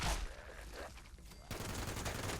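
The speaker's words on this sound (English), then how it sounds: "we're now using the 50 cal machine gun Final Word" Rapid burst of .50 cal heavy machine gun fire in Fallout 76, a dense sustained rattle that breaks briefly and resumes, loud and close in game audio.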